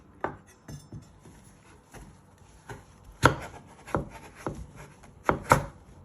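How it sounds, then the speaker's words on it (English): A knife chops through butternut squash on a board with a series of sharp, irregular thunks and knocks, several of them louder and forceful, close up and with no talk. "You're just going to chop it."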